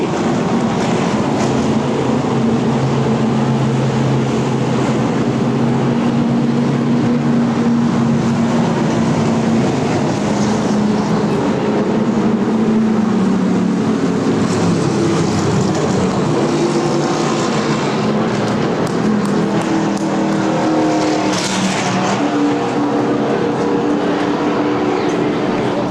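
NASCAR K&N Pro West Series stock cars racing at the Evergreen 200, a continuous loud roar of engines circling the track with shifting drones as cars pass, unbroken throughout.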